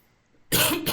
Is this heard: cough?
yes